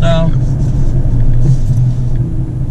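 A Mitsubishi Triton 2019 pickup rumbles loudly as it drives over sand dunes, a heavy low engine drone with cabin rumble throughout, opening with a brief tonal squeal.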